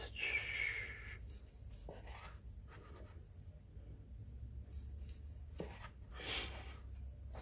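A knife slices through a keto quinoa salmon sushi roll, giving soft scraping and rubbing strokes up close, with a couple of brief sharper cuts amid quiet handling noise.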